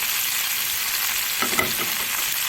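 Onion goes into a pan of frying chicken pieces, a steady hiss and sizzle that swells briefly as the onion hits the hot oil, close and even with no talk.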